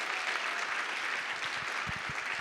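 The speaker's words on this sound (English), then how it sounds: "So we should certainly give her a round of applause." Audience applause at a summit on Angelman Syndrome, a steady wash of many hands clapping that holds level and fills the room, with a few louder nearby claps standing out toward the end.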